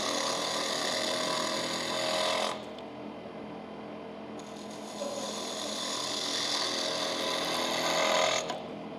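A wood lathe runs while a tool shear-scrapes a spinning wooden piece at a turning club demonstration, producing harsh, noisy hissing passes that stop briefly and resume, close and loud.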